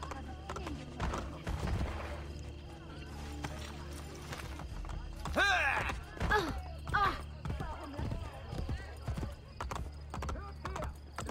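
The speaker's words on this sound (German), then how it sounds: "Pferd." Horse hooves clopping and a horse neighing in the video game Assassin's Creed Brotherhood, with a run of hoofbeats and a whinny around the middle, heard under someone talking.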